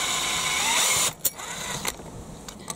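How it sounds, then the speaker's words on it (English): A drill with a 4mm bit, boring a hole for a 4mm aluminium tube in a Bruder MB Sprinter RC steering conversion, whines loudly for about a second, then stops, followed by a few sharp clicks and small handling knocks. "Next, I'm going to go through with a 4mm drill bit"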